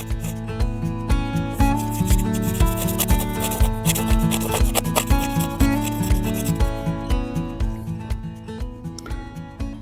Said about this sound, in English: You can use the back of your knife to just pull it through, or use a spoon to scrape it off.